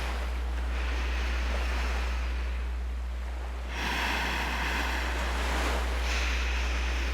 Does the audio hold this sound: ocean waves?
yes